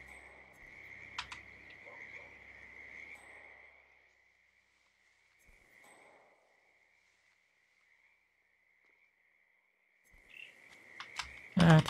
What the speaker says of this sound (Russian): А, это лягушка.